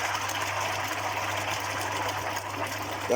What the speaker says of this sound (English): Fire up the filter pump as well